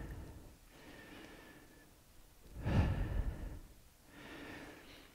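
Slow, easy breaths are drawn during a yoga pose: a couple of soft, close inhales and exhales, with one fuller, louder sighing breath in the middle, and no speech.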